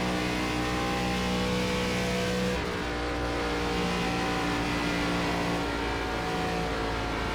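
An ARCA stock car in iRacing at Charlotte holds a loud, steady engine drone at full throttle, its tone shifting slightly midway as it carries through the turns.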